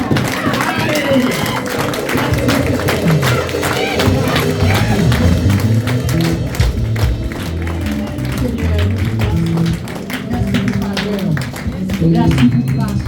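A church congregation at a Sunday service claps in continuous, rhythmic applause while voices speak and sing loudly over it throughout.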